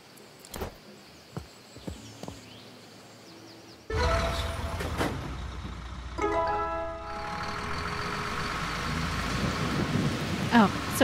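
Steady rain with a low rumble of thunder in the cozy gardening video game Garden Life, starting after scattered taps and continuing as a dense wash, with faint tonal game sounds layered over it.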